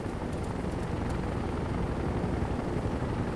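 A helicopter in the video game World in Conflict drones as a dense, steady broadband rotor roar, loud and unbroken with no voices over it.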